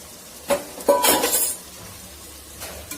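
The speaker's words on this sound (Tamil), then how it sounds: "நம்ம அந்த பீஃபு போட்டு நல்லா வதக்கிறோம்" Beef sautéing with mashed tomatoes in a pan gives a few short stirring scrapes and a brief crackling sizzle, then settles into a faint low simmer.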